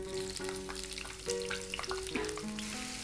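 Chopped onion sizzles in a pan while being stirred until brown. A dense frying hiss runs under steady tonal hum and intermittent scraping stirs, close and continuous.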